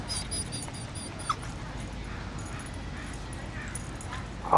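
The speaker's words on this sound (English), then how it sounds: "Oh, there's a doggy there." A dog whimpers and gives a couple of brief, faint yips over steady outdoor background noise.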